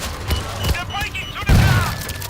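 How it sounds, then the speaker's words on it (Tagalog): Explosion in the zombie shooter World War Z, a loud low boom bursting in mid-clip amid gunfire and game effects, with people talking over the action. "may sumabog"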